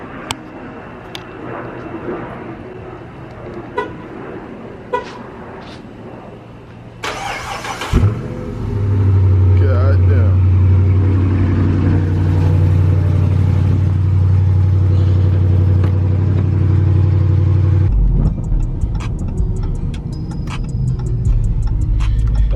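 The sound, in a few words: cold start of a 2018 Dodge Charger R/T engine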